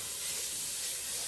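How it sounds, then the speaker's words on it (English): Raw diced bacon dumped into a hot pot for loaded cauliflower soup, giving a steady bright hiss of sizzling fat, close and continuous throughout the short moment. "then you're going to dump all of that diced bacon in"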